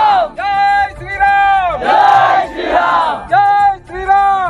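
A large crowd of devotees at a Shri Ram chariot festival roars in rhythmic, chant-like cheers, several loud surging shouts in succession close to the microphone.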